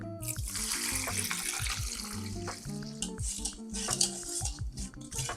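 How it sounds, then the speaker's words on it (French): Water poured into a vessel to rinse tea leaves for jun, a steady close splashing flow with faint clinks of glass or utensils against it, no talking. "je vais rajouter de l'eau ici"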